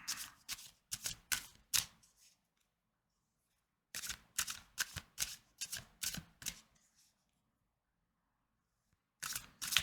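A deck of tarot cards is shuffled by hand in three quick bursts of crisp riffling and slapping, close and clear, separated by silent pauses.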